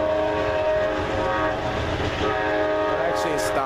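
An Amtrak Palmetto passenger train passes close by, with a loud, sustained chord from a hybrid K5LA air horn over rumbling wheels and clatter.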